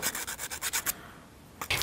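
Sandpaper rubs on small wooden parts of a Ugears hurdy gurdy model kit in quick, close back-and-forth strokes, a rapid rasping rhythm that pauses briefly and then resumes.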